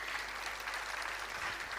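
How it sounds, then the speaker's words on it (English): A graduation convocation audience claps together in dense, continuous applause, fairly faint and steady throughout. "We can clap for ourselves."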